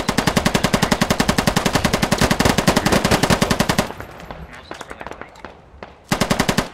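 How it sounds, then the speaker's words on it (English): Rapid automatic gunfire from the Squad video game, sustained bursts of loud, close machine-gun fire, then a pause with scattered distant shots before another loud burst resumes. "I wonder what these guys are shooting at."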